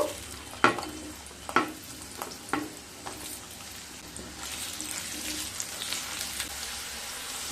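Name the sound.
pumpkin pieces frying in oil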